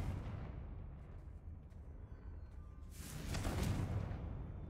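A Confringo spell explosion in the video game Hogwarts Legacy bursts out midway as a loud, broad blast over a low rumbling background, following a quieter stretch.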